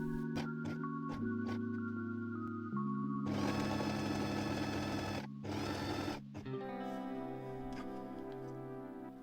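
A sewing machine stitches thin elastic onto the top edge of a lace bra cup with a zigzag or stretch stitch, its motor whirring in bursts with ticking needle strokes and short pauses between runs, close and without talk.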